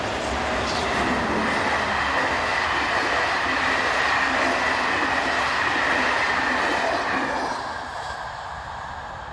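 An SNCF BB15000 electric locomotive hauls a train toward Romilly, a steady loud rumble of wheels and motors with a high whine that holds, then eases slightly as it nears and passes.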